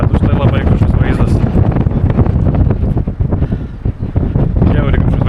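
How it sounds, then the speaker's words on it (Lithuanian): Strong wind buffeting a swaying observation tower in Druskininkai, roaring in loud gusts that pound the microphone nearby, with a person speaking through the blasts. "Koks stiprus vėjas, Jėzus Marija."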